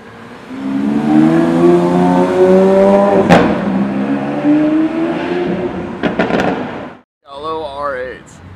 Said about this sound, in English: AMG GTR Roadster, guys.